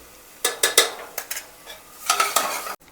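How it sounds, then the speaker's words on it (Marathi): Ginger-garlic paste hits hot oil as a tempering for Malvani chicken, with a faint sizzle under a run of loud spoon-and-pot clatters and scraping stirs. "आता थोडीशी आला लसूण पेस्ट मी फोडणीला पण टाकते"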